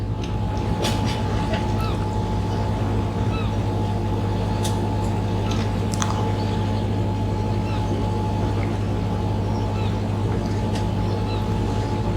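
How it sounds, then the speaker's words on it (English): A powerboat racing engine drones steadily at a distance in a continuous hum, with faint scattered clicks and knocks over the rumble. "Powerboat racing."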